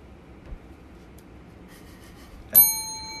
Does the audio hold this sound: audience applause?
no